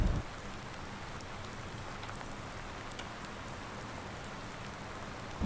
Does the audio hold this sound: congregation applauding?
no